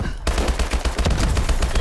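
Rapid automatic gunfire in the video game Call of Duty Advanced Warfare, a loud, dense burst of close shots firing in quick succession after a brief lull.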